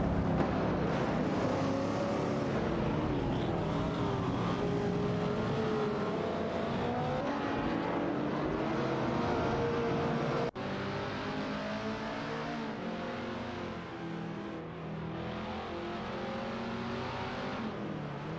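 Engines of video game race cars, including a Fiat X19 Dallara and a Porsche 904, hum and rev steadily in a tight AI-driven battle, with a slight drop in level partway through.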